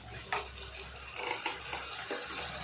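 Rita fish curry is stirred in a pan with salt, giving a soft background sizzle broken by several short scraping and clinking strokes of a spatula, close and moderately quiet.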